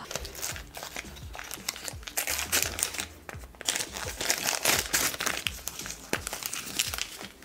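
Chanel Coco Noir perfume gift packaging is unwrapped up close with continuous paper crinkling and crumpling, occasional sharper crackles over several seconds.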